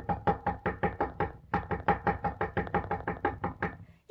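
A voice imitates repetitive knocking on a garage door with about seventeen evenly spaced, percussive knocks, close and fairly loud, with a brief pause around the middle.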